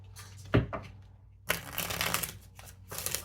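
Oracle cards being shuffled during a love reading, a short riffle near the start followed by longer, louder bursts of card shuffling, close and alone without talk.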